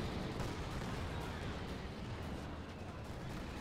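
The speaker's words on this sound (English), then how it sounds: "Fragmentation bombs going in there." Fragmentation bombs explode in the World War II strategy game Company of Heroes 2, a dense, sustained rumble of blasts and crackling impacts that holds at steady loudness throughout.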